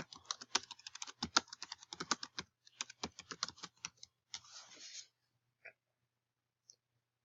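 Fingers type on a computer keyboard in quick, irregular bursts of crisp, close clicks for about five seconds, then a few isolated taps trail off into quiet.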